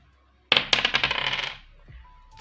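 Two dice clatter onto a hard surface, a sharp first impact followed by a quick series of bouncing, rattling ticks that settle within about a second, close and fairly loud.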